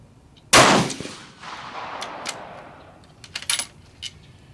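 One sharp, loud rifle shot cracks at close range at a shooting range and rings off into a fading echo, followed by a few light metallic clicks and taps.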